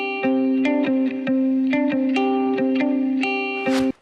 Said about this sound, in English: and finally, a saturator